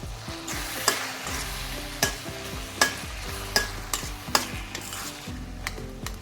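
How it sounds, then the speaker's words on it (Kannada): Chilli, ginger and garlic fry in a pan, a steady sizzle punctuated by regular spoon scrapes and knocks roughly every three-quarters of a second. "ಚೆನ್ನಾಗಿ ಮಿಕ್ಸ್ ಮಾಡಿ ಇದನ್ನು ಈ ಥರ ಫ್ರೈ ಮಾಡಿ"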